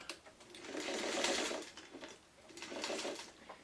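A sewing machine runs in two sustained bursts, stitching a continuous seam while a quilt block is pieced, with a short pause between runs; the motor whirs steadily and fairly close, with no talking.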